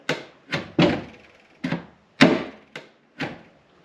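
Brand-new camper van cabinet doors latching shut firmly, a series of seven loud, sharp thunks at irregular intervals, each a close solid knock with a short decay, no voices.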